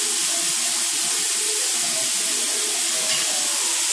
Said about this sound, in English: I just open a tap and put some water in it.